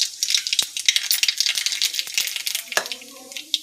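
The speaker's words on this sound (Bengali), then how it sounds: "তেল গরম হয়ে গেছে, তেলের উপর দিয়ে দিলাম কালো জিরে" Nigella seeds hitting hot oil crackle and pop in quick, irregular bursts over a bright, close sizzle, with several sharper spits standing out along the way and no talk.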